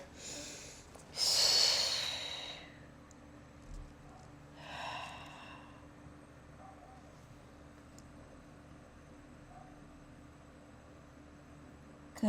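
Deep breathing during a cool-down stretching session: two long, close breaths, a strong one early and a softer one a few seconds later, followed by quiet room tone.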